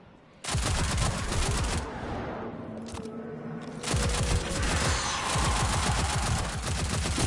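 A heavy machine gun in Destiny 2 firing long rapid sustained bursts, loud and close, with a brief pause before resuming at full rate.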